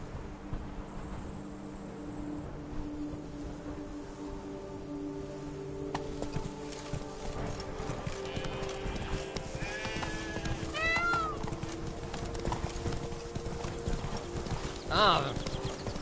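Roach, a horse in the Witcher 3 video game, clip-clopping along with a steady hoof rhythm beneath a game soundtrack and ambient noise, with voices talking over parts of it.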